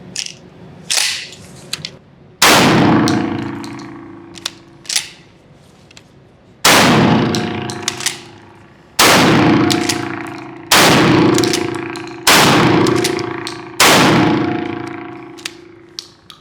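Loud, sharp blasts from a semi-automatic pump shotgun loaded with birdshot, a Turkish-made Benelli-style gun, fired in an uneven string of about eight shots, each booming shot trailing off in a ringing echo, with no talking.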